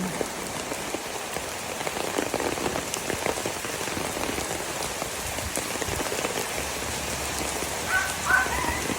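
Heavy rain pours steadily onto a surface, a dense, loud hiss of drops that stays constant throughout, with no talking.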